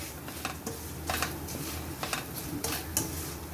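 A spoon mixes salt and chili powder into cut mango for pickle, producing a quiet run of scraping clinks and soft stirring strokes against a vessel.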